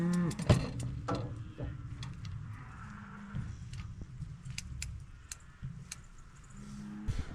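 Cows moo on a farm, a loud close low moo at the start followed by scattered farm sounds, clanks and fainter lowing from the herd.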